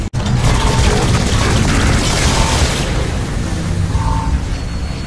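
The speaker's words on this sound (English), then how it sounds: "Doors open, and here's some bonus explosions" Explosions in a Saints Row IV cutscene: a sudden blast opens into a sustained, loud rumbling roar of booms and crashing debris that rolls on and gradually eases.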